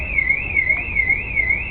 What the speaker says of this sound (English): as you can see, the alarm goes off